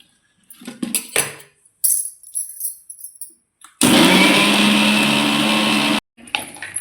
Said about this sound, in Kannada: ಮಿಕ್ಸರ್ಗೆ ಹಾಕ್ಕೋಬೇಕು